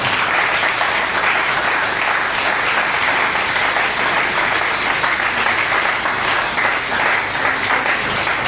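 A church congregation applauding, dense sustained clapping that stays loud and even throughout with no pauses.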